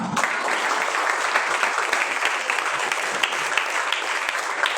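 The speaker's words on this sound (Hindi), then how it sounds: "एक बार शशि के लिए जोरदार ताली।" An audience at a university Hindi department award ceremony breaks into loud, sustained applause that fills the whole stretch without letup, dense and close.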